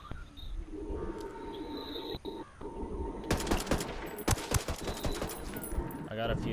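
Rapid close bursts of automatic gunfire from Ghost Recon Wildlands rattle through the second half, following quieter ambient game sound and distant shots.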